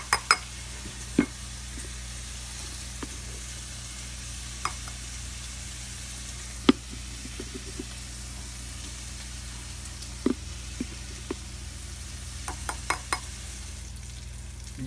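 Flour, salt, pepper and garlic powder stirred in a hot pan for homemade mac and cheese give a faint, even sizzle under a low hum. Scattered sharp taps of a utensil sound against the pan.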